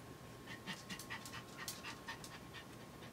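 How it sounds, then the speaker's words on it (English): Quick, rhythmic breathy huffs from a panting dog, soft and somewhat distant, continuing evenly through the clip with no voices over it. "And my dog's behind me panting,"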